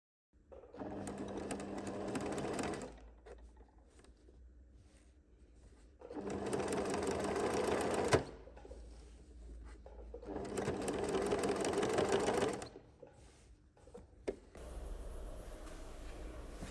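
A sewing machine stitches a skirt hem, its motor running in two long bursts with a quieter pause between, then a short third run, loud and close with no talk.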